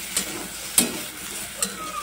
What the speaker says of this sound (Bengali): আলু পটলের মতো সয়াবিনগুলোকেও ভেজে নেব।